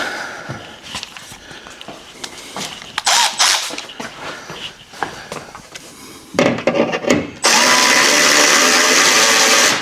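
Power tool tightening bolts on a strut tower bar during installation on a C8 Corvette, with clanks, short tool bursts and handling noises, then a steady loud whir near the end.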